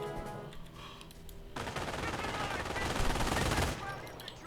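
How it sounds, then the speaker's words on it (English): A heavy machine gun team firing in a WWII strategy game, a dense continuous burst of rapid shots lasting about two seconds after a quieter opening, fairly loud and close. "Here's our heavy machine gun team here, putting some pressure on this cap point"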